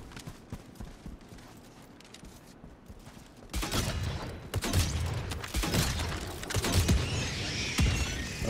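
Mortar barrage and battle noise in Helldivers 2 co-op play: a quiet stretch gives way to a sudden loud burst of rapid impacts and gunfire-like cracks that keep rumbling and popping to the end.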